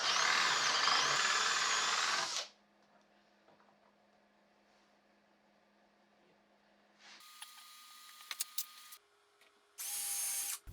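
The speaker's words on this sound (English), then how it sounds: "I made a bit of a meal of boring the holes into the door for the hinges." A power drill bores hinge holes into wooden cabinet doors, a loud whirring burst at the start followed by quiet handling noise and two shorter, fainter drilling spurts near the end.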